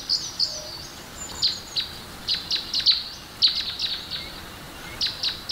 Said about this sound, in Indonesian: Ada anak burung di sana.